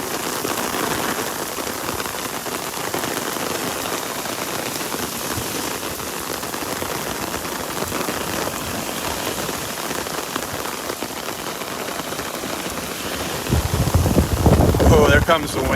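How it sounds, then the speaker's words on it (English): Rain from Tropical Storm Elsa patters and drips onto an umbrella on Vanderbilt Beach in Naples, Florida: a dense, continuous hiss of drops with wind buffeting the microphone, swelling into a louder gust near the end. "You can see the rain dripping off my umbrella here."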